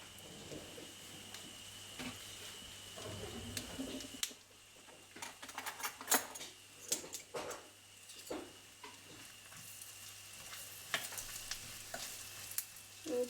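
Curry leaves and cashews sizzling in hot oil for a white pongal tempering, a steady crackling fry with sharp pops and spatters, with stirring clatter and a constant background hum, loud at close range.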